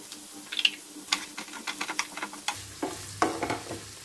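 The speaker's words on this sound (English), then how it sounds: "saute them well on medium heat" Chopped tomatoes, peas and finely chopped capsicum sautéing over medium heat for soya keema, with quiet sizzling and a rapid run of close spoon taps and scrapes against the pan.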